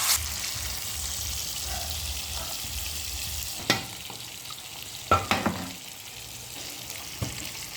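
Meat frying in a pan gives a steady close sizzle, with a few sharp scrapes and knocks from stirring now and then, and no voices.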